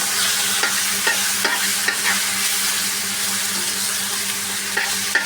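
Food fries and is stirred in a pan: constant loud sizzle with regular scraping and tapping of a utensil close by, no voices.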